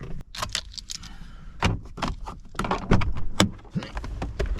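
A rental car door opens amid a rapid run of clicks, clunks and rattles, with several sharp mechanical knocks spread across a few seconds at close range and no talking.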